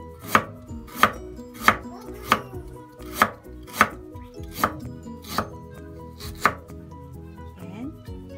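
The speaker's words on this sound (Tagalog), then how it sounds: "Slice na po natin yung ating luya." Fresh ginger being sliced with a knife on a cutting board, about ten crisp, evenly spaced chops in steady rhythm, close and clear, no voices.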